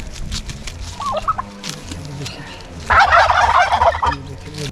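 Turkey at Shangrila Resort in Lower Kachura, Skardu, Pakistan, gives a loud, dense gobble burst of about a second and a half near the end, after quieter outdoor sounds and a brief chirp.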